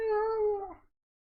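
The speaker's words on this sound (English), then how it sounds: "Actual American cat sounds playing right now, rather than the Japanese kind of classic nyans." Cat meowing in an anime episode: a single drawn-out meow of just under a second, clear and close, fading at the end into silence.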